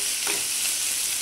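Onions and green chillies sautéing in a pan, a dense, even sizzle with one brief scrape of stirring near the start and no voices.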